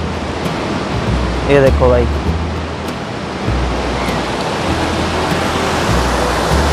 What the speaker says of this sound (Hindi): गंगा में बहुत तेज उफान आ गया भाई, बहुत तेज पानी हो चुका है